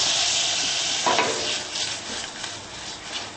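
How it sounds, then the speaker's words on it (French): Turnip balls sauté in a knob of butter in a pan, giving a soft steady sizzle with a brief scrape of stirring about a second in. "Je vais faire revenir les billes dans une noix de beurre."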